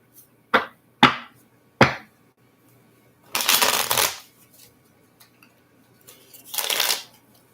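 Three quick riffling snaps followed by two longer whirring shuffles of a card deck, close and crisp, with quiet pauses between.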